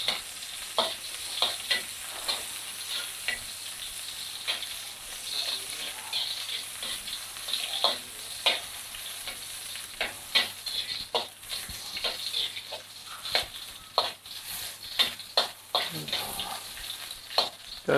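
Slow frying in oil in a pan over gentle heat while making mee sua noodles: a steady sizzle with frequent clicks and scrapes of stirring throughout, close and moderately loud.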